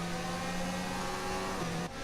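Formula 1 car engine in an F1 video game at a wet Silverstone, a steady high-pitched whine held briefly and faintly before a sudden drop at the end.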